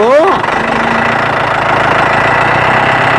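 A construction machine's engine starts and settles into a steady, loud idle, with a rising whine at the start and a constant rumble filling the rest of the clip.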